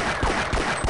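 Automatic gunfire from a weapon in the game Half-Life: Blue Shift comes as a quick, loud burst of three or four rapid shots, close and alone.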